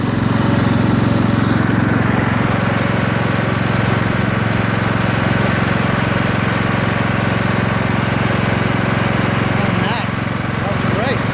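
Kohler Command CV460S engine on a Craftsman LT1000 lawn tractor running at low throttle, a loud, steady, close drone that holds the same level throughout.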